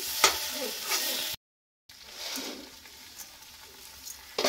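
Vegetable bharta mash is stirred and scraped in a hot wok (kadai), giving a soft sizzling hiss with rhythmic scraping strokes, close by; the sound cuts out briefly before the stirring resumes.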